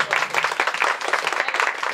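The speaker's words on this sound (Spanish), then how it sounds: "Fuerte los aplausos" Audience applause at a comedy street show, a dense continuous patter of many hands clapping, fairly close and steady, with a few voices mixed in.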